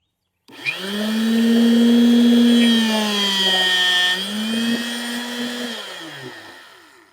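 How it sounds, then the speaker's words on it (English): An electric rebar cutter shears rebar on a barndominium build: a motor whines up and holds a steady tonal hum for several seconds, dips briefly, then winds down alone. "So basically you lay the rebar in and you just hold down this trigger."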